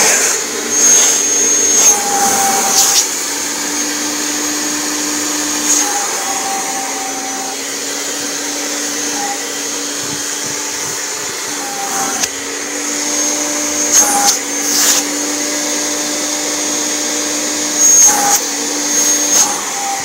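A Kirby Generation 4 80th Anniversary Edition upright vacuum cleaner runs loud and close with a steady motor whine, its pitch rising and dipping briefly several times as it is handled.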